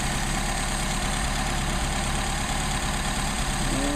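An idling car engine fitted with a Solex carburetor drones steadily and close, a constant low rumble with rhythmic pulsing as the RPM sags slightly, no voices over it.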